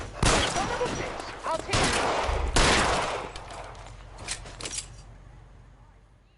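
Gunfire shootout in the video game L.A. Noire, several loud close bursts of rapid shots with sharp cracks that thin out into scattered single shots and fade away, with someone talking briefly between the volleys.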